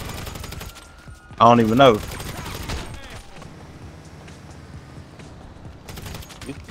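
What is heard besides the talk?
gunfire in a video game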